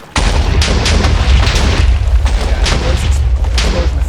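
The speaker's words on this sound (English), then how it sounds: "Explosion effects are pretty awesome." Loud, deep booming blasts from enhanced explosion effects added by a mod in a Minecraft modpack, rolling continuously for several seconds with repeated sharp bursts layered over a heavy low rumble.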